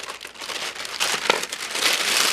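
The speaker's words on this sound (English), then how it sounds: "We're going to cut into this bag." Close crinkling and rustling of a plastic bag of diamond painting kits being cut with scissors, a few sharp snips, the crackle rising toward the end; no voices.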